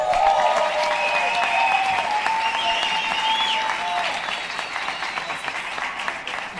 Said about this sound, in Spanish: Ya se me adelantaron con el aplauso